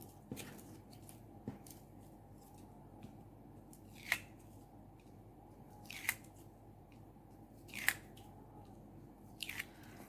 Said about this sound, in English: we're going to then remove the tape backing